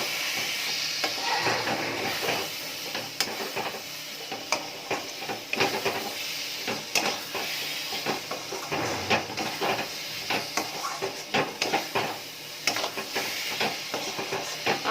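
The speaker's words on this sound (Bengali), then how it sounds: "এর মধ্যে পুরোটা দেবো না অল্প একটু প্রথমে দিয়ে একটু মিশিয়ে দেবো" Spice mix being stirred into amla (Indian gooseberry) pickle, a steady close scraping and mixing with soft sizzling texture and repeated utensil taps against the pot, continuous with no voices.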